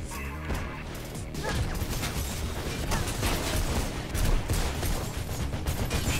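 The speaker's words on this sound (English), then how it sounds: "they have a goddamn machine gun" Enemy machine gun fire in the Mirror's Edge game, a dense rattling burst of rapid shots and impacts running steadily for several seconds amid loud game noise.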